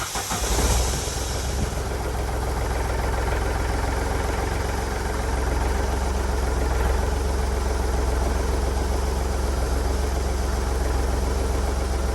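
A 2013 Smart 451 CDi diesel engine idles steadily after an oil change, with a short start-up burst followed by a constant close, loud rumble with a faint knocking texture.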